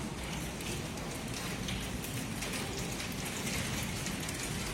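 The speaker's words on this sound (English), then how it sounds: "It's hailing." Hail pours down during a violent windstorm in Tempe, Arizona, a dense, unbroken roar of pelting ice on surfaces, loud and steady from start to finish with no voices.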